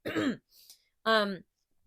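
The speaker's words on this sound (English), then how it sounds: "I keep clearing my throat." A person clears their throat twice, close up, with a short rough pause between the two harsh, voiced rasps.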